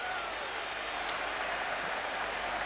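A stadium crowd at the 1999 France v Scotland rugby international roars after an early French try, a dense, steady wall of cheering that holds at full level throughout.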